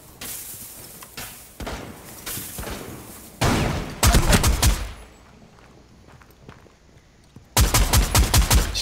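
Close, loud bursts of automatic gunfire from Rainbow Six Siege during a Hereford Base Terrorist Hunt, breaking out in several sharp volleys between quieter stretches of footsteps and ambience, with no talk.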